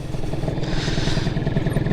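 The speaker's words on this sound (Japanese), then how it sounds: "アイドリングもね、安定してるので、いいのではないかなと思います。" A 1987 Honda NSR50 two-stroke motorcycle engine idles steadily close by, a loud, even buzzing putter with a faint rattle running through it.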